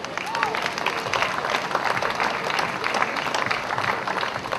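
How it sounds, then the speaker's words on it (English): Crowd applause at a July 4 celebration in Morgantown, a sustained, even roar of clapping with some crowd noise. "Give yourselves a big round of applause."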